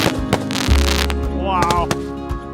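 Handheld stick fireworks go off at close range, sharp crackling pops and bursts repeating over a steady low hum, with a whistling squeal rising partway through.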